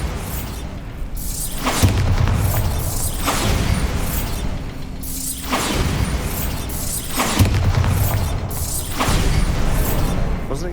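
Repeated Bombarda spell blasts from the video game Hogwarts Legacy, set in a mine, land as loud booming explosions with crackling debris, several heavy impacts rolling into one another over a rumbling game backdrop.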